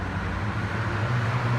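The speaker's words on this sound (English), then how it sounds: "For the car being naturally aspirated, that sounds fantastic." A 1983 Porsche 944 with its naturally aspirated engine runs at a steady, deep drone, a loud low rumble with a slight rise in pitch toward the end, heard without talking.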